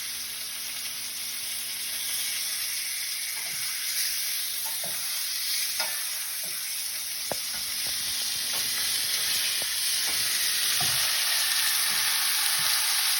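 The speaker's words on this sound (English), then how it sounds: "we're going to let this cook on each side for about 2 to 3 minutes so we have a nice sear on it" Chicken pieces sear in a hot pan with a steady, dense sizzle throughout, punctuated by scattered sharp pops and a few scraping stirs, close and fairly loud with no talking.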